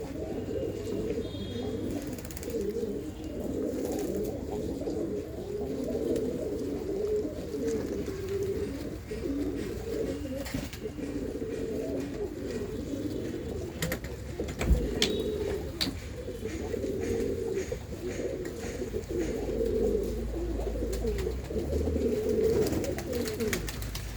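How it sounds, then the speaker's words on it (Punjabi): A large flock of around two hundred pigeons coos continuously in a loft, a dense low murmuring chorus at steady moderate loudness with occasional faint chirps and small knocks. "ਆ ਦੇਖੋ ਜੀ ਸਾਰੇ ਦੇ ਸਾਰੇ ਕਬੂਤਰ ਆ"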